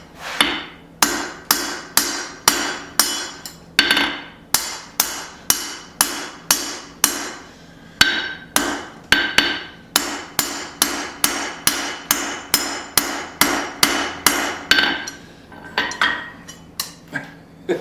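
A hot rivet is hammered while forging tongs from flat bar, with steady blows ringing sharply off metal, about two strikes a second, close and loud, with brief pauses between runs and no talking.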